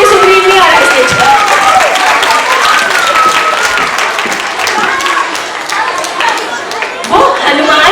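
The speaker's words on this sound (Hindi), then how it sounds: "आप ताली नहीं बजा रहे इसलिए सुग्रीव नहीं आ रहा स्टेज पर।" Audience clapping at a Ramleela stage performance, sustained crowd applause mixed with voices and a loud announcer speaking over it.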